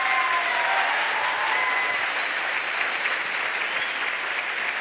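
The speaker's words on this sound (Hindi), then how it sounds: "अपने लिए ताली बजानी है" A seminar audience applauds with steady, dense clapping that holds at an even level for the whole stretch, filling the room without any break.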